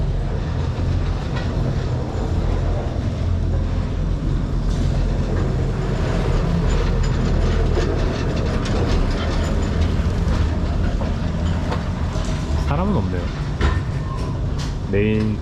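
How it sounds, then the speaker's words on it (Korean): A tram rumbles and clatters steadily close by on a Lisbon street, with wheel squeals near the end and people talking faintly underneath. "트램이 오고 있어가지고"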